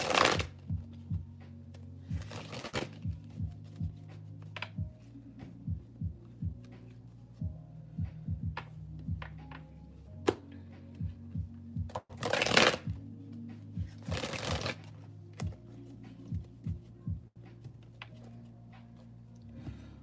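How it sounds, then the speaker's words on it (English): Tarot cards are shuffled and moved in repeated riffling bursts, a few loud sharp flurries among quieter taps and slides of cards over a low steady hum. "let me move these other cards out the way"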